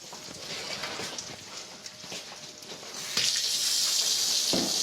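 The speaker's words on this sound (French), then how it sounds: "Dans l'évier, on va mettre de l'eau chaude." Hot water from a tap running into a kitchen sink, a steady rushing stream that swells louder and brighter partway through, with faint handling noises before it.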